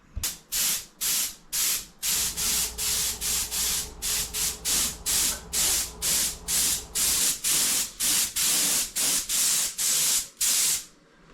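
Spray gun laying two-pack paint onto the sides of a VW Transporter campervan, a rapid series of loud hissing bursts in quick regular passes, close and continuous, with no talking.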